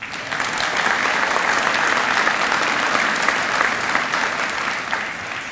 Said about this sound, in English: Y'all clap for them one more time.